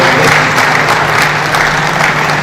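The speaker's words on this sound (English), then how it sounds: "Give him a round of applause" A conference audience at a pharmacists' national gathering applauds a presenter, giving loud, continuous, dense clapping that fills the hall evenly throughout, with a steady low hum beneath.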